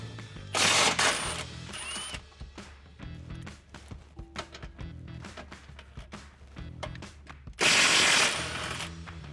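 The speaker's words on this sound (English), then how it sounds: "Now I'm going to remove these two frame bolts using a 16mm socket" A 16mm socket on a ratchet loosening frame bolts on a Jeep Wrangler JL for a rear bumper install: two loud, sustained bursts of rapid clicking at the start and end, with lighter metallic clicks and knocks between.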